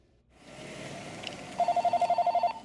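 A telephone rings in a quiet bookstore and comics shop. The electronic trill starts after about a second and a half of faint room noise and repeats in a rapid, even pulsing burst, close and fairly loud.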